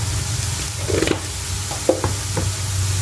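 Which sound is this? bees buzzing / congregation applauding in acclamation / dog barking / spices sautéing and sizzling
spices sautéing and sizzling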